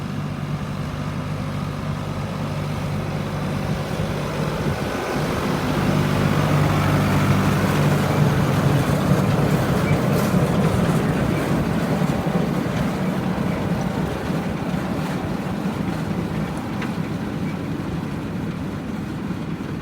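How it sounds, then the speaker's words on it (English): A tractor-pulled hay bine with a sickle cutter mows a 9-foot swath of silage crop, a steady loud engine and machinery drone that swells midway and holds without talk. "So this particular hay bine cuts a 9-foot width."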